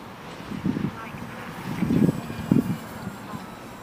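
Turbulent wind buffets the microphone at an RC plane flying field where a Durafly Tundra model is flown, a steady rushing roar with gusty swells under a voice.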